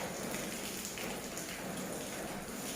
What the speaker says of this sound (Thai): ช่วงนี้ก็ฝนก็กำลังตก